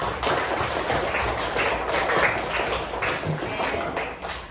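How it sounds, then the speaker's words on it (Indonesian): A classroom of students claps together for a classmate who has just answered, a dense, steady patter of many hands filling the room at close range for several seconds. "Boleh kita tepuk tangan untuk teman kita yang sudah menjawab"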